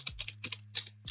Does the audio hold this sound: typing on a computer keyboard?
yes